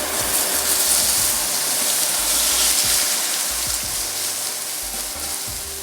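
Shrimp frying in olive oil in a very hot pan on high heat, a loud, dense, continuous hiss and sizzle heard up close, no talk.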